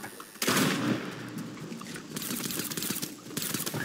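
A burst of gunfire opens loudly in the video game Fortnite, then a long stretch of rapid crackling shots rattles on under a busy game soundscape, ending with another sharp burst.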